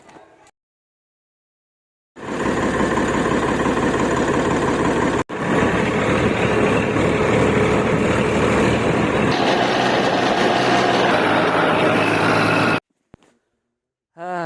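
A tractor engine runs steadily at close range while the tractor is driven, a loud continuous low rumble and drone lasting about ten seconds, briefly dipping once, then cutting off into near silence.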